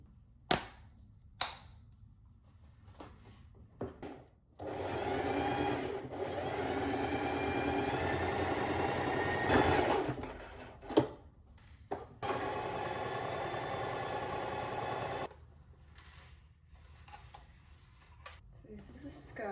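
A sewing machine stitches the seams of a birthday dress, running steadily for about ten seconds with a short pause partway, framed by sharp clicks and clunks of handling before and after.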